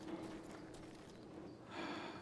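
A horse gallops in the western shooter Call of Juarez: Gunslinger, its hooves making a steady, fast clip-clop that runs the whole time at moderate loudness, with no speech over it.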